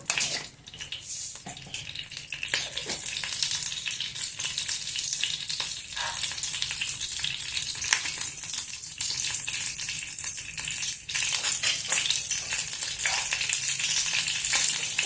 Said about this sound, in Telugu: ఆవాలు జీలకర్ర వేగుతున్నాయి కదా